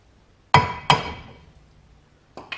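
A hammer taps the brake rotor off the rear axle of a 1995 Pontiac Firebird: two close, ringing metallic blows in quick succession, then a lighter knock after a pause.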